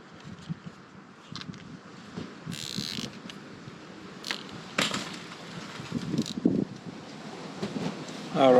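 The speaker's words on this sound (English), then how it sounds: "what you hear is the wind" Wind blowing hard outdoors beside a BMW R1200GS motorcycle under service, a steady broadband rush with gusts swelling louder toward the end, some faint rustle and handling noise, and no speech.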